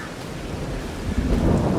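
Rain and thunder in the Farming Simulator 22 video game: steady rainfall patters while a low thunder rumble swells toward the end, moderately loud with no talk.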